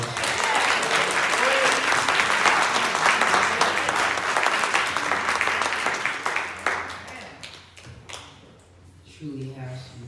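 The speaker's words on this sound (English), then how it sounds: "give all of our young people a round of applause" A church congregation applauds its young people with sustained dense clapping that fades near the end, where voices begin talking.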